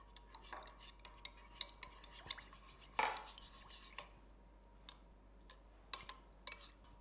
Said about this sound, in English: So, what we do, we just start mixing it in.